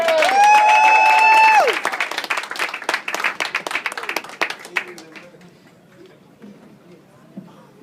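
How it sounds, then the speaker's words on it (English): Comedy club crowd bursts into loud applause and whoops for a comedian, at first under a sustained tone, then the clapping thins into scattered claps and fades out to near quiet. "Give him a big round of applause for Bill Russ,"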